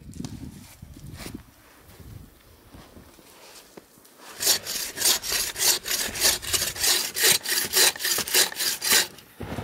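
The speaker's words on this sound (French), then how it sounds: "c'est le même genre de scie que ça" A hand saw cuts through wood in a quick, steady series of rasping back-and-forth strokes, loud and close, after some quieter handling sounds.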